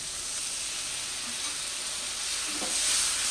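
Spice paste with tomato cooking in a pan, a soft continuous sizzle and hiss, close but fairly quiet, swelling slightly near the end, with no voices.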